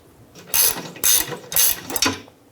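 A ratchet clicks in rapid bursts while loosening a bolt on the rear lower control arm of a 2011-2014 Hyundai Sonata, four loud close strokes with brief pauses between them.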